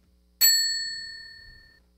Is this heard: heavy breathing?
no